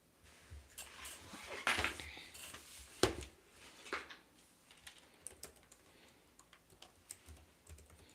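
Fingers type on a computer keyboard in soft, irregular clicks and taps, close but quiet, with a few louder keystrokes and light breathing or murmuring around them.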